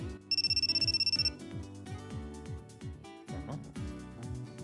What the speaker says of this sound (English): I hear the muffled sound of an unpleasant electronic jingle